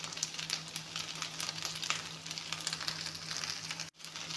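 Rice pakoras fry in hot oil with a steady, close, even sizzle and faint crackles throughout, with no voices.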